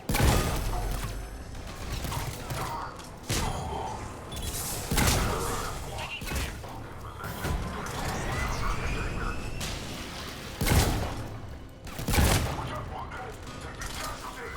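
Bursts of gunfire crack through a firefight at a checkpoint in Mass Effect 3, with heavy thumps and repeated volleys at irregular intervals, loud and close, mixed with mechanical clatter and voices.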